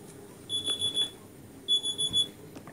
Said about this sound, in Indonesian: Kayaknya mah alarm subuh.